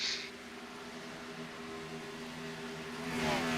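A NASCAR stock car engine on the Kansas Speedway pit lane hums at a steady, moderate drone with a rising rush toward the end, heard alone without talk.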